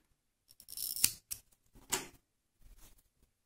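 Scissors cut through crochet yarn, a few close crisp snips and rustles in short bursts separated by silence.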